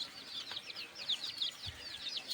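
Desi native hens with their chicks, a faint flurry of rapid high peeping and chirping from the chicks with a low cluck from a hen, no talk.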